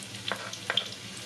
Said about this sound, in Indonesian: Nih, ditumis ya